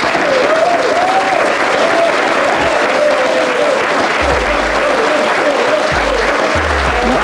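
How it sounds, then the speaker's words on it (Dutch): A television studio audience at a sports program applauds, loud and steady, with clapping holding at a constant level throughout while a voice murmurs faintly underneath. "Geef hem nog eens een applaus."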